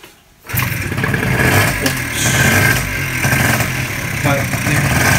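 A restored Yamaha Pop Gal two-stroke scooter engine catches after a short quiet moment, then runs steadily with a rough, buzzy idle and mild revving, loud and close, continuing to the end.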